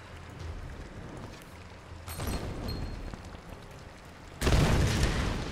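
Two deep synthetic booms from an explosion in Tomb Raider (2013, PC), a couple of seconds apart, the second louder and more sustained, with a rumbling tail.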